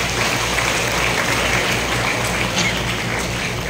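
An audience at a youth gathering in Batangas claps in a steady, dense wash of applause that holds evenly for a few seconds without voices on top.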